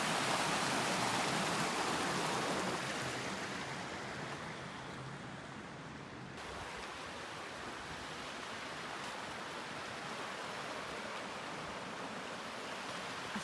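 Water rushes steadily at a quiet cemetery in the Okunoin area of Wakayama Prefecture, a broad constant hiss like a stream or small waterfall that fills the whole scene without voices.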